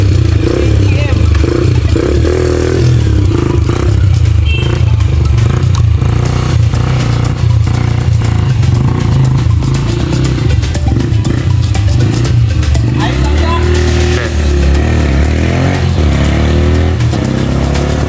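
A restored KTM 450 motorcycle engine running loud and close on a test ride, a steady rumbling drone with rising revs and some rattling clatter partway through.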